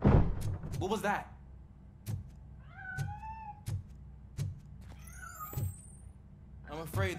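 Cat meowing in Robocop: Rogue City, a few short mewing calls spaced between sharp clanks and thuds, with someone speaking briefly at the start and end.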